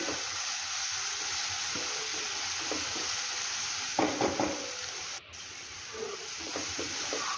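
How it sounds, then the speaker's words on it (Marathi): Crushed garlic and green chilli thecha frying in oil, a steady close hiss of sizzling with occasional scraping stirs and a few louder crackles, no talking. "तोही आपण या तेलामध्ये छान असा फ्राय करून घेऊया"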